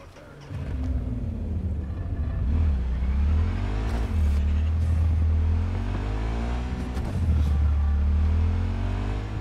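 An old car in Cyberpunk 2077 drives with a loud, close engine that rises and falls through several revving swells and gear changes, rumbling heavily underneath.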